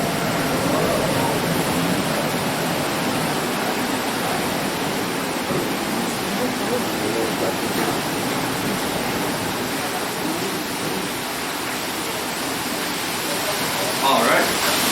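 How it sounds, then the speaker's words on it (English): Water rushes into the crib of Mill Creek's water mill in Mackinaw, Michigan, a steady, loud, broadband roar of flowing water that holds unbroken for the whole stretch. "And I'll allow that water to fill up our crib."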